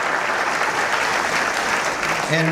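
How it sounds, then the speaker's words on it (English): A crowd applauds steadily at a university chancellor's inaugural address, a dense wash of clapping that holds at an even level throughout. "we'll give her a round of applause"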